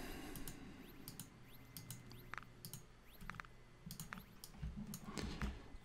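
Quiet typing on a computer keyboard, with soft, irregular key clicks tapping in short bursts at low volume and no voices.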